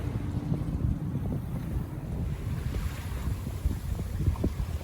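A sailboat races off the wind in a Corinthian race near Alcatraz, with constant rushing water along the hull, wind buffeting the microphone and hull slaps, loud and close, with no talking.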